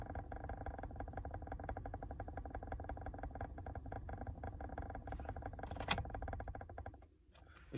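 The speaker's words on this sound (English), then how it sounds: "My car sounds terrible right now." A car engine running rough, a steady uneven idle with a fast ragged pulsing that holds close and loud for about seven seconds before dropping away near the end.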